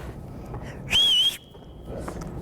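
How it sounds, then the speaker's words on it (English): A single sharp whistle blast, loud and piercing, lasting under half a second, with quiet background noise before and after. "That's better than my other whistle."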